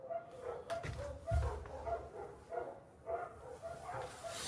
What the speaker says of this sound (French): Ça, c'est les chiens qu'on entend.